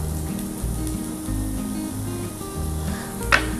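Onion and grated coconut sizzle gently while being roasted in a pan for a clam curry masala, a soft continuous frying hiss over a low rhythmic hum, with one brief sharper scrape near the end.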